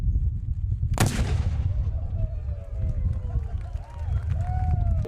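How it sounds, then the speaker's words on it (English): A ceremonial cannon at the 51st RBC Heritage golf tournament fires one loud, sharp boom early on, followed by a rumbling tail over steady outdoor crowd noise and voices talking. "The cannon may have a new look for the 51st RBC Heritage, but still has the same effect on the golfers."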